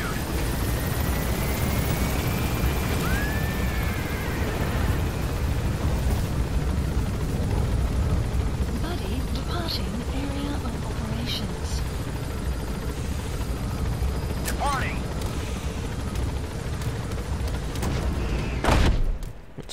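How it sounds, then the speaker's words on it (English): Extraction helicopter arriving in Metal Gear Solid 5: The Phantom Pain, a steady loud rotor roar filling the scene with faint game effects and a sharp impact near the end, no talk. "Get to the chopper!"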